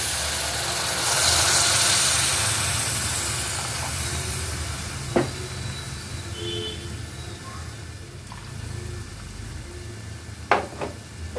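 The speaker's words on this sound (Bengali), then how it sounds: "এবার আমি এর মধ্যে দিয়ে দেব গ্রেভির জন্য একটু গরম জল।" Hot water poured into frying masala in a pan sets off a steady loud sizzling hiss for a Bengali dhokar dalna gravy, with a few small clinks of a utensil.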